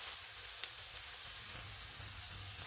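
Gobi Manchurian fries in a pan with red chili powder, black pepper, salt and chili sauce, giving a soft, steady, faint sizzle with an occasional light tap.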